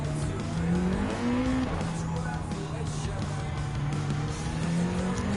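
Engine of a 2008 Nissan GT-R GT500 race car in Gran Turismo 7, a steady loud drone with rising and falling pitch through gear shifts, mixed with tire squeal as it corners, continuous throughout.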